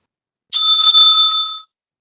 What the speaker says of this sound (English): The bell will be ringing once